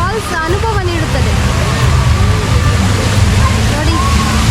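An artificial waterfall at the Karavali festival in Mangalore at night gives a steady, loud rush of falling water, with people talking nearby over it.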